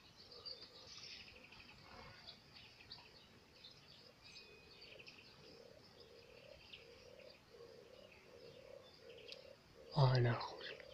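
Faint, scattered goldfinch chirps drift in the background over a low outdoor rumble, with a brief louder burst of noise near the end.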